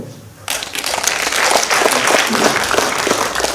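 Applause breaks out after a short quiet lead-in and holds steady, a dense wash of clapping from an audience at a public forum on civic reform in Korea.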